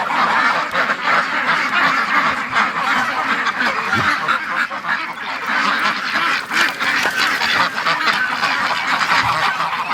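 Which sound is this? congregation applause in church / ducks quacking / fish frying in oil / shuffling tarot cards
ducks quacking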